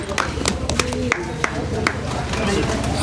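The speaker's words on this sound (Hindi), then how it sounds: "जोरदार तालियां।" A village felicitation ceremony with a crowd gathered outdoors. Scattered, uneven handclaps ring out over steady crowd chatter and murmuring voices.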